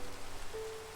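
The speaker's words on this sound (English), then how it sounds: "Oh, and it happened to rain." Rain falls in vanilla Minecraft as a constant hissing wash, with a faint steady tone entering partway through.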